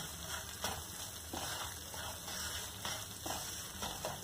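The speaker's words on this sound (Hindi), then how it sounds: "जब तक ये सूजी फूल के दो गुनी ना हो जाए तब तक हम इसको भून लेंगे" Semolina roasts in a pan over a low flame for a milk halwa. A faint, steady sizzle runs throughout, with soft stirring scrapes at regular intervals.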